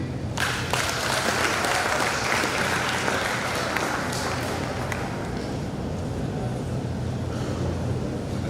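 Steady applause from an audience at an outdoor environmental greening event, dense and continuous for the whole stretch with a faint murmur of voices underneath.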